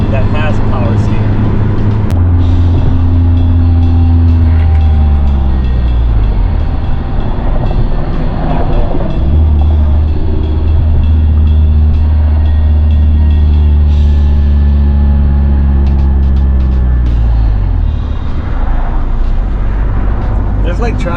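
A 2016 ND1 Mazda MX-5 Miata driving on Michigan roads and highways, steady loud engine drone and road roar with rising and falling gear tones, heard from inside the cabin under ongoing talk.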